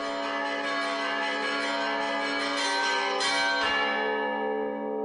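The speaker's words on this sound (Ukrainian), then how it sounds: "Відтоді її дзвони щоразу скликають людей у храм" Church bells of the Holy Trinity convent in Korets, Ukraine, ringing continuously, a rich overlapping peal with sustained resonant tones that begin to fade near the end.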